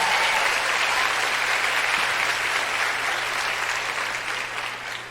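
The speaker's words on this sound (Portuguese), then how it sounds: "Então dê um aplauso de crente ao Senhor." Church congregation applauding during a sermon: dense, steady clapping from a full room that holds throughout and tapers slightly at the end, with no speech over it.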